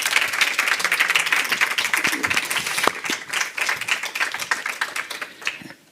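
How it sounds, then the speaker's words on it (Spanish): Audience applause at a live Mexican legends event in Madrid, a full crowd clapping loudly, then thinning into scattered claps that fade out at the end. "Un aplauso mientras bajan y así vamos."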